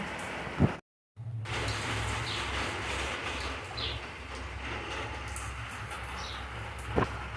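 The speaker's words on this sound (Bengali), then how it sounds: "আমি রান্না করছি আর প্রচণ্ড বৃষ্টি এসে গেছে" Heavy rain patters steadily outside during evening cooking, a continuous dense hiss with a brief dropout near the start and a few faint distant chirps over the wash.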